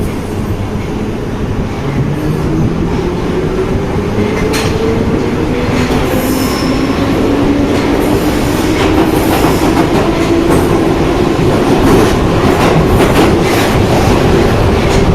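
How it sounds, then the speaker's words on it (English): A London Underground Piccadilly line train pulls away and accelerates, a rising electric motor whine building over steady rumbling wheels and rail noise, loud and close. "This train is ready to leave."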